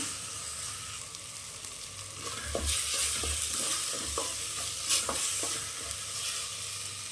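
Tomatoes sautéing in a pan for egg biryani, a soft steady sizzle with intermittent stirring scrapes and clinks, close and moderately quiet throughout.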